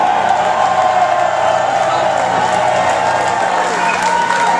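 A concert crowd at The Oakland Metro cheers and applauds after a live performance, loud dense clapping mixed with whoops and shouts, sustained throughout.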